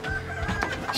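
A broody hen clucks up close, a brief burst of throaty clucks lasting about a second.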